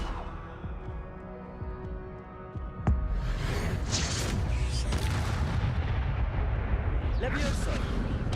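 Spell-casting effect from the Hogwarts Legacy video game: a sharp magical crack followed by a booming, rumbling burst of energy with crackling debris, loud and sustained after a quieter hum of game ambience.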